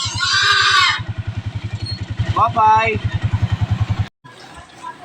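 A motorcycle cab idles in street traffic, its engine a steady, close, rapid low throb that runs under a person talking and briefly cuts out near the end.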